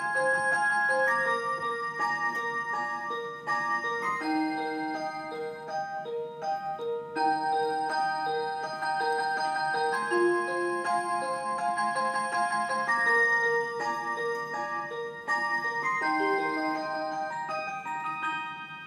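A Hello Kitty clock plays its tinkling chime melody, a steady run of bright bell-like notes lasting around twenty seconds, close and clear with no talk.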